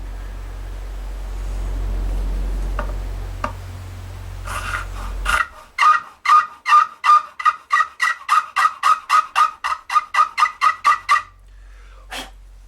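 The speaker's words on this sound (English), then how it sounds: "That's how you know you're working with a bone nut. That awful sound." A bone guitar nut on a Fender Telecaster is worked with a file: after a low hum, about fifteen quick, even rasping strokes scrape close and loud in steady rhythm, then stop, with one last stroke after a pause.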